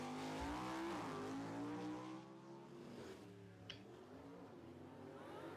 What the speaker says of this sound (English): Oh, that car didn't get off the line.